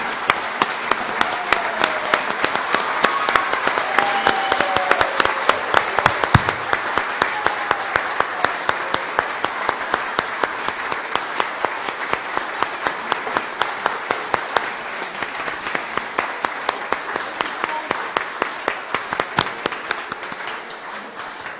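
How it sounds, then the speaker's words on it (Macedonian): A standing audience at a Romaversitas oratory event gives long, steady applause for the speakers, a dense and even wash of clapping with some louder individual claps, lasting over twenty seconds. "Ќе ве замолам да станете и да ги поздравиме со аплауз за нивната голема работа."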